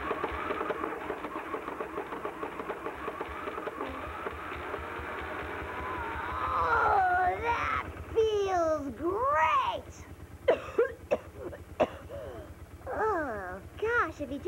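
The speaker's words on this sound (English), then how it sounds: "If you just changed my spark plugs, I wouldn't have this cough." A motorcycle engine idles roughly, sputtering and coughing in uneven bursts, with a voice talking over the chugging motor.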